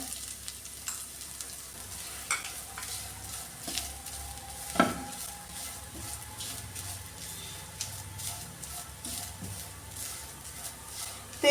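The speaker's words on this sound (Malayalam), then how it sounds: "തേങ്ങയും കൂടെ ഇതിലിട്ട് നന്നായി ചൂടാക്കിയെടുക്കാം" Grated coconut roasting in ghee with cashews and raisins for a sweet bread snack, a soft continuous sizzle with occasional spoon scrapes and light knocks against the pan, fairly quiet and close, no talking.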